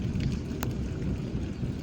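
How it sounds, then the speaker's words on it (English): Steady rain falls during a desert rainstorm in August, a dense continuous hiss with low rumbling underneath and one brief sharp burst partway through, with no voices. "Hitting a nice little rainstorm here."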